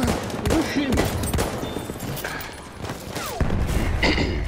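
Gunfire in the video game Battlefield 1: scattered shots and short bursts crack through a busy battle mix, with voices calling out between them.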